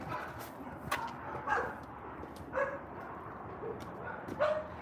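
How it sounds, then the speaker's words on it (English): Several dogs bark and yip excitedly at a house, short sharp barks repeating every second or so at a moderate distance over a steady background hum, with no talk. "My dogs are going crazy, dude."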